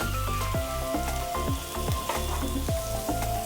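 Prawns grilling in a hot pan, a continuous crackling sizzle with small pops, joined by a steady background hum that falls in pitch again and again.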